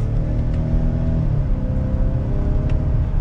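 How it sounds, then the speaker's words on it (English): A 2022 Ford Explorer Timberline accelerates under light throttle with paddle-shifted gears, a continuous engine rumble and whir that steps in pitch as a shift occurs partway through, heard from inside the cabin. "giving it a little bit of gas and using those paddle shifters."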